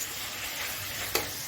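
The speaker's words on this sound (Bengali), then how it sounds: "দিয়ে এখন যতক্ষণ না এগুলো ভাজা ভাজা হয়ে তেল বেরোচ্ছে ততক্ষণ আমি ভাজবো" Onion with ground spices and garam masala frying in hot oil for matar paneer, a steady close sizzle with one brief sharp clink of a utensil near the end.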